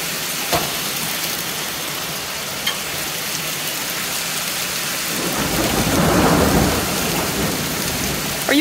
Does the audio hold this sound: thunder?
yes